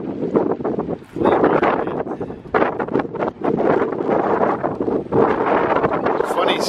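Strong wind blusters steadily at an outdoor flea market in Nebraska, roaring and buffeting against the microphone in loud, uneven gusts, with brief lulls between them. A voice talks faintly underneath.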